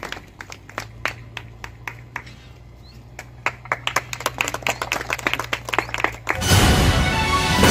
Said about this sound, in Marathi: जोरदार टाळ्या वाजवून आपण